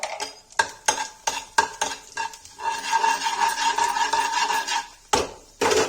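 Cumin seeds dropped into hot oil for tempering a Kashmiri crispy bhindi dish: a few sharp spoon clinks against the pan, then a steady crackling sizzle that fades before a last clatter; no talking.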